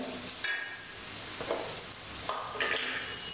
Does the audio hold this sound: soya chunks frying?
yes